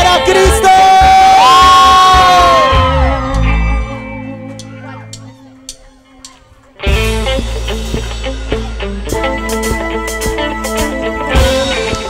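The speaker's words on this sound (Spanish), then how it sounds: "Un grito para Cristo." A crowd shouts and cheers for Christ at a Christian concert, loud whoops rising over amplified music and a sung voice, then the band kicks back in beneath scattered cries.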